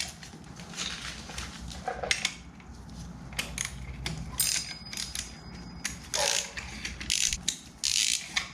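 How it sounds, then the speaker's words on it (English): Metal tool clicks, ratchets and clinks during oil filter removal on a Kawasaki Ninja ZX6R motorcycle, close and intermittent, with scraping and rattling bursts and no talking. "then we're gonna remove the oil filter"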